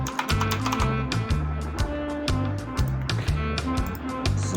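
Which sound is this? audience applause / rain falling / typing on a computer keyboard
typing on a computer keyboard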